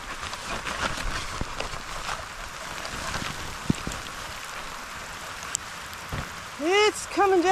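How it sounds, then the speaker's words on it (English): Hard rain mixed with hail patters steadily on surfaces in a wooded outdoor setting, with sharp clicks of individual strikes. Wind noise runs through it, and a voice briefly speaks near the end. "It's coming down pretty hard, and it feels a little bit like hail."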